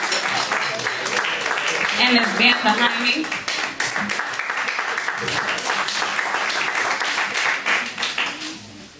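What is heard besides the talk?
audience applause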